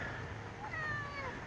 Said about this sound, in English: And a kitty cat.